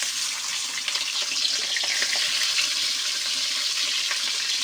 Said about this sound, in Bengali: এবার আমি গোশটা ভেজে নেব।